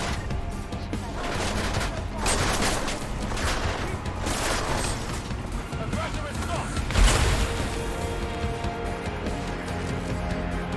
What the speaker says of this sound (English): that was a concussion grenade